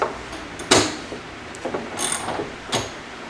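A 10 mm bolt being loosened inside the door of a Miata, a few sharp ratchet clicks in short bursts separated by quiet pauses.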